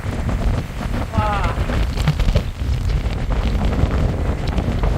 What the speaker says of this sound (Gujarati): કેવો પવન છે કેવા દરિયાના મોજા છે